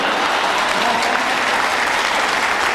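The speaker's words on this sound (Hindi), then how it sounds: "मैं जानता है इस पर आपको जोरदार ताली बजाएंगे।" Audience at a Hindi poetry recital breaking into steady, loud applause, a dense wash of many clapping hands sustained evenly throughout.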